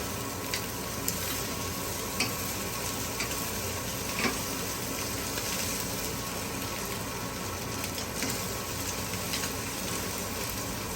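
Broccoli and carrots sizzle steadily in a hot pan as they are stirred and brought back up to temperature, a continuous close frying hiss with a few soft scrapes and no voices.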